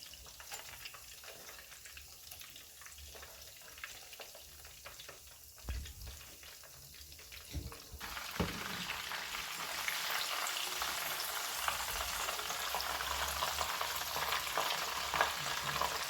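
A Scotch egg fries in oil over low-medium heat, first as a quiet crackle and then rising into a steady, fuller sizzle that continues on its own with no talking.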